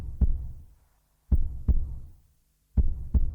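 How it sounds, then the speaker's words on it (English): Heartbeat in a music video soundtrack, deep lub-dub thumps in pairs, three heavy double beats spaced by silence, loud and isolated with no voices. "It sounds like a heartbeat"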